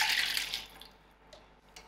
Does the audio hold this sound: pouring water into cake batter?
yes